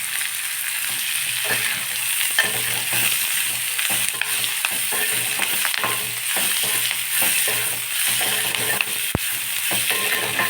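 Drumstick leaves sautéing in a hot pan for ragi roti give a steady, close sizzle with faint stirring scrapes and one sharp metallic clink, and no voices.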